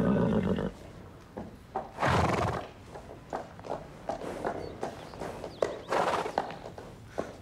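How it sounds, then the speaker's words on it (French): A horse on a stable yard gives a loud whinny, followed by scattered hoof clops and thumps at close range, with a second shorter neigh later and no speech. "Il est à qui ce cheval?"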